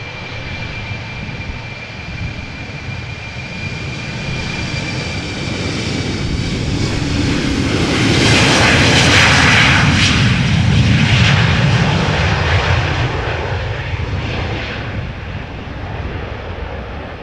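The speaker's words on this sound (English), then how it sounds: "KLM flight 919 going to Southampton, Embraer 190, 13 years old, first flight March 2010" A KLM Embraer 190 jet departs Amsterdam Schiphol, engine roar building from a distant rumble to a loud, broad peak midway, then slowly fading as the airliner climbs away.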